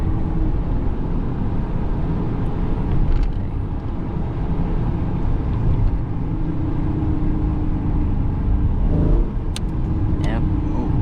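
A 2018 392 car spins its wheels in third gear while driving in the rain, giving a loud, steady roar of engine and tire noise that holds for the whole stretch.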